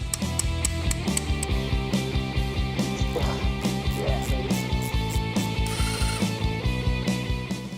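Rapid ratcheting clicks repeat steadily as a wrench works at very old, rusty fasteners, a close mechanical clatter with no talking.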